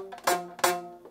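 Two plucks of a tightened rubber band stretched over a homemade rubber band guitar, each a bright twang that rings with a steady pitch and fades over a fraction of a second, close and fairly loud.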